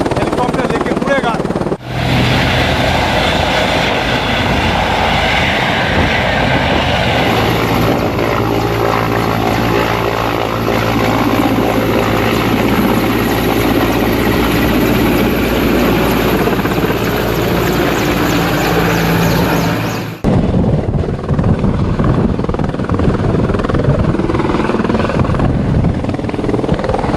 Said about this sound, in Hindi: अब इनको हेलीकॉप्टर लेके उड़ेगा।